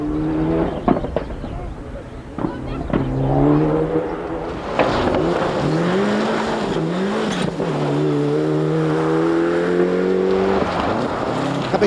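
A Mitsubishi Charisma rally car on a Welsh night stage in the 1997 Kerridge Rally, engine revving hard through gear changes, approaching and passing with rising and falling pitch, loud and close, with a voice talking over it.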